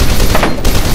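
A brief, loud burst of rapid gunfire in the shooter video game F.E.A.R. 2, dense and continuous with a short dip before it resumes.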